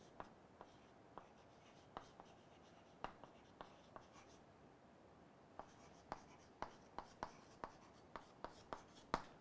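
Chalk or marker writing on a board during a materials science lecture on tempering of martensite: a series of sharp, irregular taps and short strokes, close and fairly faint, with no talking over them.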